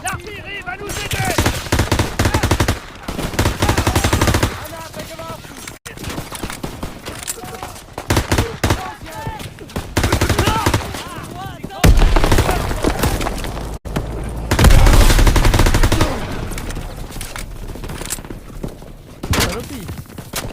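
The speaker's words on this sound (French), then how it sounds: "ces mitrailleuses tirent sur notre position" Machine guns fire in the World War II shooter game Call of Duty WW2, dense rattling bursts and scattered gunshots with thuds and explosions, loud throughout, with a voice talking over the battle at times.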